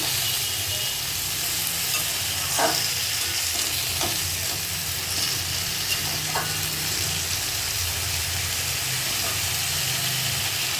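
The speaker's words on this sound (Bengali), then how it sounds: "সব ভালো করে মিলিয়ে নেব মাছের তেলের সাথে" Malabar spinach stir-fries in oil rendered from catla fish, giving a steady, continuous sizzle with a few sharp clicks of a stirring utensil, heard close against a low background hum and without speech.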